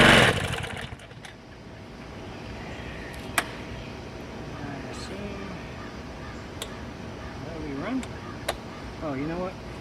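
A pressure washer's small gas engine starts and runs on carb cleaner, loud at the start and then settling into a rough, uneven putter close by, while someone talks over it.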